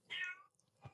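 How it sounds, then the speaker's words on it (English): A female cat in heat gives a single drawn-out, wavering meow, quite faint and distant in a quiet room, trailing off into a soft low thump, with no one speaking. "If you hear my cat, she's in heat right now."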